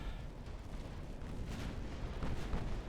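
Naval gunfire from 7.4-inch Mark I guns in the warship game Ultimate Admiral Dreadnoughts during a fight with a cruiser force: a dense, continuous rumble of booming shots and bursts at steady loudness.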